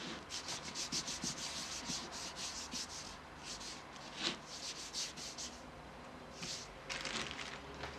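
Fondant covering a bride doll cake is rubbed smooth by hand in soft, rhythmic strokes, a faint close swishing friction that repeats in quick runs with short pauses.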